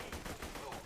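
A short, loud burst of rapid gunfire in the looter-shooter Borderlands 2, several quick cracking shots packed into under a second, with a voice partly overlapping.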